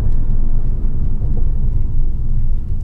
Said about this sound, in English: this thing has a sports exhaust standard because it's the performance variant